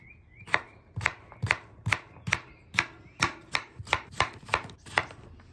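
A knife chops potato into chunks on a cutting board, about a dozen sharp, evenly paced strikes ringing out close and clear, with no talking.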